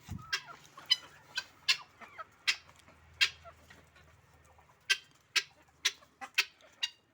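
Turkeys, including Bourbon Red birds, feed together as a flock on a farm, giving a series of sharp, fairly loud clucks and gobbling calls in an uneven rhythm, with soft scratching and pecking in the quiet gaps.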